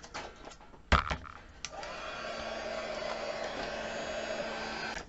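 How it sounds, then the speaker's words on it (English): A heat gun drying a painted clothespin snowflake craft switches on after a few handling clicks and runs as a steady, close blowing whir. "in between you can dry with the heat gun"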